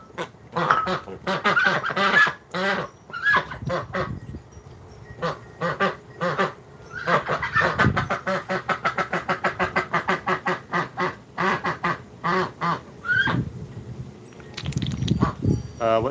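Ducks quacking in loud, rapid bursts close by, with a long run of evenly spaced quacks in the middle and a person talking now and then between calls.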